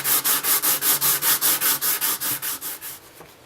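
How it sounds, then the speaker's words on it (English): Rhythmic strokes of 220 grit sandpaper take old finish off a wooden 12-string guitar body: about fifteen steady, close, even rasps that slow and fade toward the end, with no talking. "we're just going to sand it down until we get it nice and smooth and just down to the wood and get all that old finish sanded off of there"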